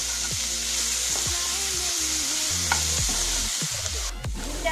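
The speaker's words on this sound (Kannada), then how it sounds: "ಟೊಮೆಟೊವನ್ನು ಹಾಕಿ ಇದು ಬ್ರೌನ್ ಬರುವವರೆಗೂ ಹುರಿಯಿರಿ." Tomato with chili powder stir-fried in a pan for homemade carrot and potato Manchurian, a close steady sizzle with repeated scraping strokes of a spatula against the pan, no voices.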